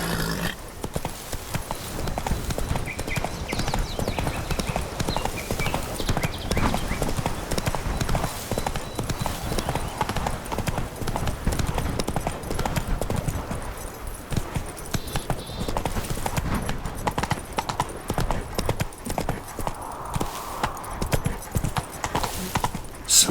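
Galloping horse hooves in The Witcher 3 pound in a fast, continuous rhythm, loud and close for the whole stretch, with a faint snort or whinny near the end and little talk.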